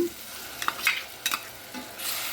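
Onion, salt, coriander seeds, cumin, fenugreek and garlic paste frying in a pan give a soft background sizzle, broken by a few brisk scraping stirs from a spoon, close and moderately quiet.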